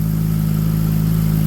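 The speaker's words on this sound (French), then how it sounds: "on commence à entendre le régime moteur qui descend. Donc ça, du coup, c'est le starter qui fait son office" A 63-year-old car engine idles steadily on choke, a loud, even, low rumble with a constant mechanical whir and no pauses.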